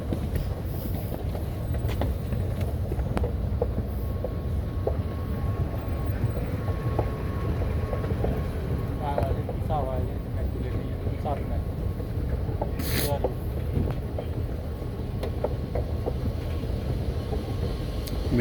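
Dubai Metro green line train running, a steady low rumble filling the whole stretch with faint squeals and clanks, and people talking quietly underneath.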